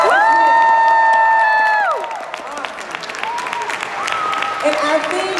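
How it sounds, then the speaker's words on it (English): Applause and cheering from a crowd at a drug-free themed rally at the Georgia State Capitol, loud and sustained, with whoops and shouted voices over the clapping. "let's just give a big round of applause for today"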